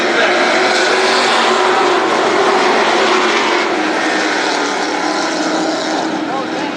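Super Sprint race cars at Berlin Raceway thunder off the line for an 8-lap heat race after a restart, a dense, loud, continuous roar of many engines from a crowd-level distance.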